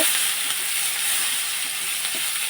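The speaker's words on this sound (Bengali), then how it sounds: "এটাকে আমি একটু বাদামি কালারের করে ভেজে নেব" Onions sizzle steadily in a hot pan, frying toward brown, a continuous bright crackling hiss close by with no talking.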